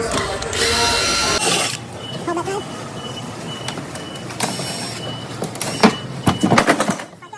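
A power drill works screws loose from a store display, with short bursts of whirring and mechanical clatter between handling noises and bumps, close by.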